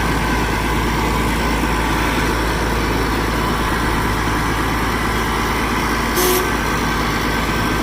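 A Massey Ferguson 550 combine with hydrostatic drive moving under its own power, a loud, steady, close diesel drone that holds constant throughout, with a brief higher hiss near the end.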